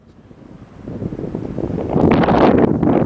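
Wind gusts at night at the water's edge of a slough during midnight crabbing, a rough roar that buffets the microphone and swells steadily louder, with no talking.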